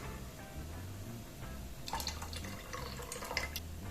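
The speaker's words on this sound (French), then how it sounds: "Donc à ce moment-là, on va rajouter notre vinaigre." Vinegar is poured into heated milk in a pot while making Polish twarog cheese, a faint, soft trickle and splashing of liquid over low background hum.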